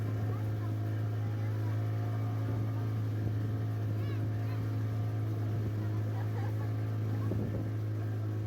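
A motorboat engine drones steadily and loudly throughout as the boat travels down a river toward the sea, with a constant low hum and faint water and wind noise around it.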